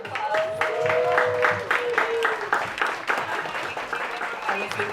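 Applause from a panel audience, a steady patter of many hands clapping together, with a voice speaking over it partway through.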